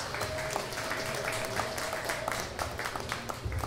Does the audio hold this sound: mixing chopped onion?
no